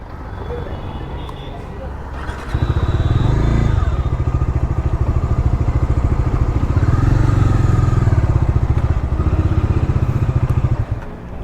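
A Bajaj Dominar 250 motorcycle at a service shop idles loud and close with a steady, low engine thrum that rises after a couple of seconds and holds, over a faint clatter of workshop noise.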